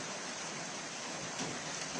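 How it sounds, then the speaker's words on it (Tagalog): Steady rain falling outdoors, a dense even hiss of drops that holds constant from start to finish, with no voices. "Magandang ulan sa atin. Umulan kasi rito."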